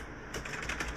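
Typing on an RGB computer keyboard with flat and clear keys, a run of quick, light key clicks starting a moment in, close and fairly quiet.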